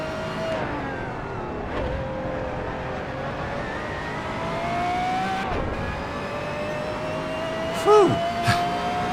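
A race car engine in the Assetto Corsa racing game roars and revs continuously, with pitch rising through gears and dropping on shifts, loud and close throughout.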